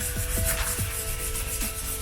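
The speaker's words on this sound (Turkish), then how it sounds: "Zımpara işlemine başladığınız zaman zımparayı böyle karışık yapmayın." Sandpaper rubbed over a VW Passat headlight lens during wet sanding, giving a steady, close scratchy rasp with repeated strokes, heard alone without talk.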